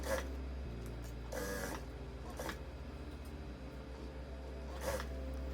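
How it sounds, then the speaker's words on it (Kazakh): Sewing machine stitching ribbon onto a quilt lining, a low steady mechanical hum with rapid rhythmic stitching pulses, plus a few brief rustling bursts of fabric being handled, faint and close. "Төртінші қатарымызға тек лентаның өзін тігіп шығамыз."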